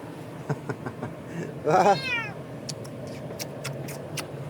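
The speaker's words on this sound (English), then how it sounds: "Here comes the talking cat." A cat gives one clear drawn-out meow in the middle, close and fairly loud over a quiet outdoor background with a few soft clicks and taps.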